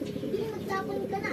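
Pigeons coo at a loft with low, soft, rolling calls that overlap continuously, with a person talking nearby over a steady background.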